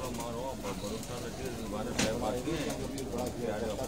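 Black-faced pigeons, crosses of golden and dove-type breeds, cooing softly in repeated rolling calls close by, with someone talking over them.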